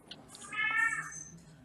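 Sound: cat meowing for its morning treat

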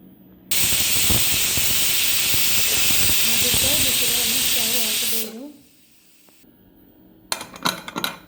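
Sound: pressure cooker whistling, releasing steam while cooking dal

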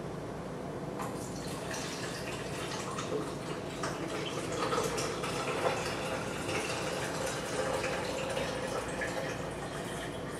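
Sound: pouring off buttermilk from antique butter churn

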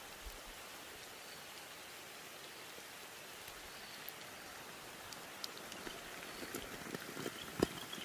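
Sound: rain starting to fall heavily

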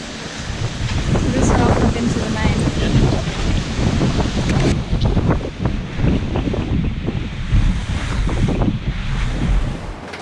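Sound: strong wind at sea

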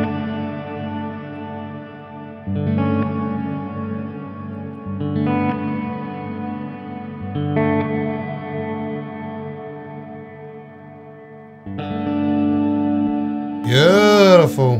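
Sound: short sharp guitar notes through BOSS RV-6 reverb pedal

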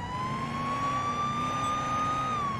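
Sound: police car siren in the video game Police Simulator: Patrol Officers

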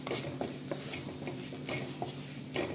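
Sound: coriander powder and curry leaves stirred in frying pan

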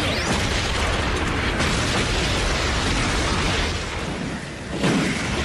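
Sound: cartoon explosion

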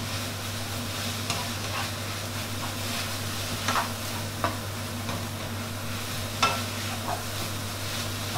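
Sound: pad thai being stir-fried in a wok

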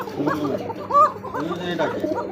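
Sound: Kokka pigeon pair calling

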